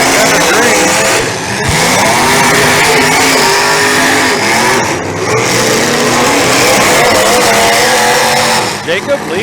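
Race car engine at a dirt-track event, revving hard on the throttle with rising and falling pitch, loud and continuous under an announcer's talk and crowd noise.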